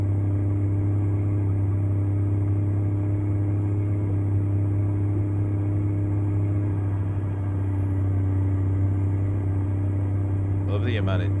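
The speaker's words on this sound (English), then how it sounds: "Plenty of pulling power on this engine." A Hayes Clipper truck engine in American Truck Simulator hauling on a logging road, a steady, heavy low drone that holds constant throughout, loud and continuous, with a brief faint rattle near the end.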